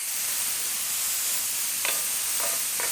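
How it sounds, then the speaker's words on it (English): Onions cooking down in a hot pan give off a steady, even sizzle throughout, with a few brief utensil scrapes and stirs near the end. "Cook down the onions a little bit, get them a little translucent, pick up a little bit of color."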